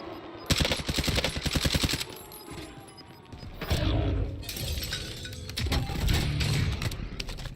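Gunfire from a gun in the video game Warzone, loud rapid automatic bursts in several strings, separated by brief pauses with clattering and impact sounds.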